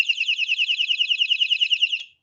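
A household alarm device sounds a rapid warbling electronic trill, loud and close, pulsing steadily for about two seconds before cutting off.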